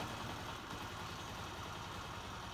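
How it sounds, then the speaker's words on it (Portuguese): A freshly finished 2008 Honda CG 125 motorcycle engine idles steadily with a faint whistle, a quiet, even hum continuing without pause. "o motor chega a estar assobiando"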